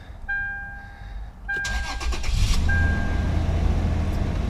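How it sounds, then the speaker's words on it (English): A Toyota 4Runner with a new Y-pipe exhaust cranks after a few warning chimes, catches and settles into a loud, deep, steady idle up close. "All that is left to do is to start it up, hear how it sounds"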